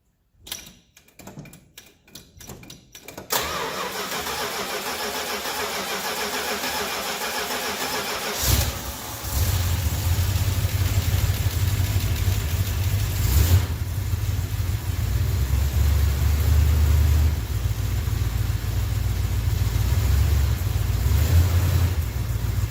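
A 1968 Dodge Polara's 318 Mopar V8 cranks with rapid starter clatter for a few seconds, then fires and settles into a steady, loud, close rumbling idle with a brief rev partway through.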